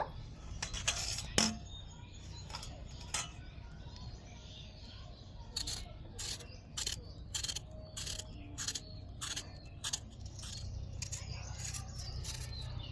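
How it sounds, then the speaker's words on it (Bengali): Potato skins being peeled in a kitchen, about a dozen short close scraping strokes in an irregular rhythm over a faint background with birds chirping. "আলুর খোসাটাকে ছাড়িয়ে নিয়েছি আর এইভাবে করে সব আলুগুলো ছাড়িয়ে নেব"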